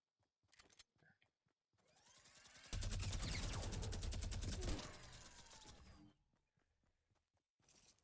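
Sustained burst of automatic machine gun fire in a Fortnite match, loud and dense for about three seconds, rising from scattered footsteps and lighter shots and tapering back to quieter game sounds.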